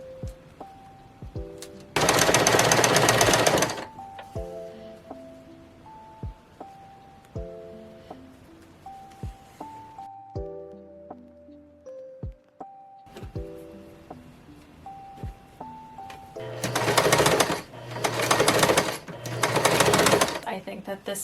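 A sewing machine stitches costume sleeves together in two loud bursts of rapid whirring, one early and several toward the end, while a voice talks over soft background music between them.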